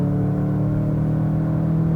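A 2019 Volkswagen Jetta GLI with a manual gearbox hums with a loud, steady low engine drone and rumble, close up and continuous, with no voices.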